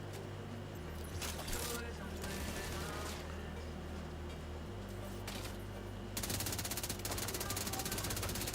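Assault rifle in The Division 2 firing a rapid sustained burst toward the end, loud and crisp after quieter intermittent shots and game ambience, with someone talking over it.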